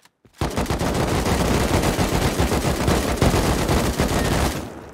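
Rapid automatic gunfire from a cargo-heist shooter video game fills the whole clip, a loud, dense, continuous stream of shots heard up close with no talk.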